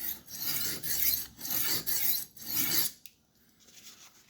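A knife blade stroked across a sharpening stone, several quick, close rasping passes in a steady rhythm, then a short quiet tail with a faint scrape.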